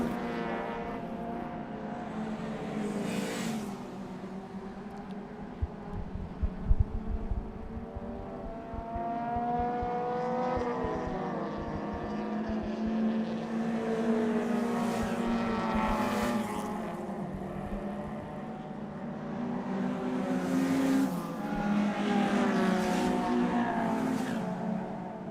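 Race cars at an ICCR 2023 circuit race, a steady roar of several engines blending together with rising and falling revs as cars pass, continuous and fairly loud without any talk.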